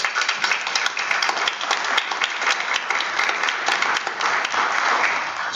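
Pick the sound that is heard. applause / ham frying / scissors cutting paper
applause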